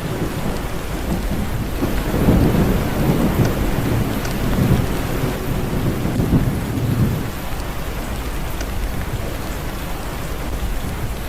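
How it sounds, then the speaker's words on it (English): Loud, steady roar of rushing flood water fills the whole clip, a dense broadband rumble that swells slightly in the middle, with no voices, heard during record storms in Yunnan, China. "all you can hear is the water roaring right beneath your feet"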